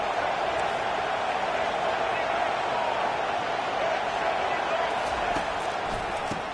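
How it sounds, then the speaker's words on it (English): A stadium crowd at a football game roaring loudly in a dense, sustained wall of noise as fans try to help their defense, with a commentator speaking over it. "It is getting loud as this crowd tries to help its defense."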